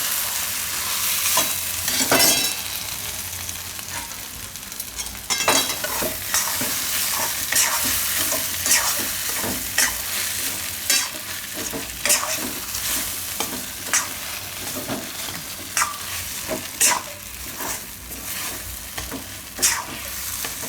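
A spatula stirring and scraping a corn and potato filling for makkai aloo parotha as it fries in a pan, a continuous sizzle broken by repeated sharp scrapes and clacks at an uneven rhythm.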